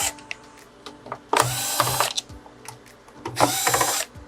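Power drill backing screws out of the stand of an LG 55LX6500 TV: two loud whirring bursts of a couple of seconds each, close by, with ratcheting clicks and small mechanical knocks between them.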